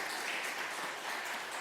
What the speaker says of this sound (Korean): 한번 큰 박수로 우리